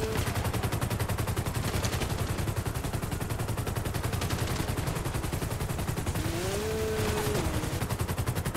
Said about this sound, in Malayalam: അവന്മാരെ അതിൻ്റെ ഇടയ്ക്ക് വെടിവെച്ചുകൊണ്ടിരിക്കുകയാണ്